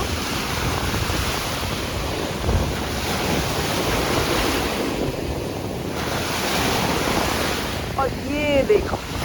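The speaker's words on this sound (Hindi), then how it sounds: "लहरों को सुनो" Ocean waves break on the shore, a loud broadband wash of surf rising and falling, with wind buffeting the microphone and a short faint tonal sound near the end.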